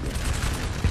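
In a Napoleonic-era battle video game, canister shot rips out as a dense, continuous crackling roar of massed gunfire, steady and fairly loud over a brief moment.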